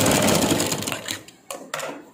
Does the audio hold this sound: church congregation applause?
no